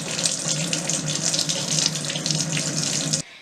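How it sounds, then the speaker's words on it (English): A steady stream of water runs from the discharge faucet of a Leveluk SD 501 Platinum water ionizer, a continuous splashing hiss that stops abruptly near the end. "when you turn this little handle here, the water runs through your Kangen water machine"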